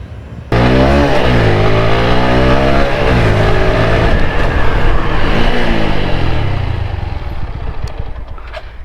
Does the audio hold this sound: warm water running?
no